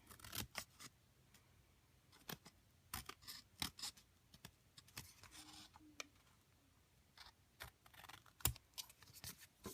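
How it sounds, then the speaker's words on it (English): Scissors carefully trimming the edge of a paper card for a closet and pocket craft card, giving a series of sharp, quiet snips at irregular intervals, close by, with no talking. "take my scissors and carefully trim it"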